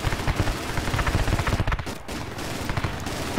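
Rapid cannon fire from a low-flying Hind attack helicopter in the military game Project Reality, a dense stuttering burst of shots rattling on and off with a short gap partway through.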